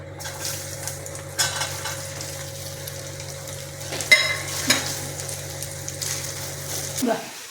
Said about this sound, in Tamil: தேங்காய் கீரை போட்டு நல்லா ஒன்று ஃப்ரை பண்ணணும்